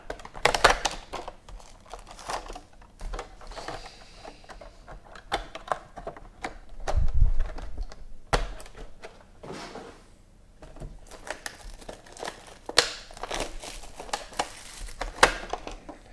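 Cardboard boxes of 2015 Panini Clear Vision football trading cards being opened, with crinkling, tearing and rustling of packaging in a steady run of close handling noises and no speech.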